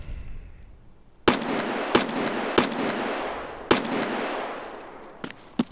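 Sniper rifle shots in the game Escape from Tarkov on the Customs map, five or six sharp cracks spaced about a second apart, each trailing a long echoing decay, moderately distant.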